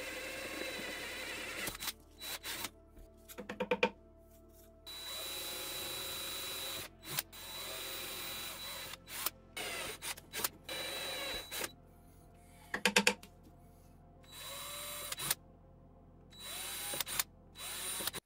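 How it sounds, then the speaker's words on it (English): A small hand drill boring holes in audio streamer panels whirs in short bursts, starting and stopping repeatedly with quiet gaps between, close and fairly soft. "I hand drill and sand the holes on both panels."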